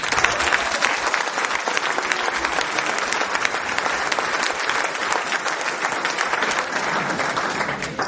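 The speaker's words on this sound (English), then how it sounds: "could you please welcome our first speaker, Mr. Kenny Clark." Sustained applause from a large audience welcoming a speaker, dense clapping at an even level throughout, with no voices standing out.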